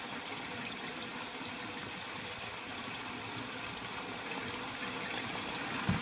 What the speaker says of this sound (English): as you can tell, the tank is filling